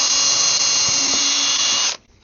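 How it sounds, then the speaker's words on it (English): A high-pitched power drill whines loudly and steadily for about two seconds, drilling through a wooden plaque for a skull mount, then cuts off abruptly into near silence. "So I'm going to drill a hole right here and put a screw from the back"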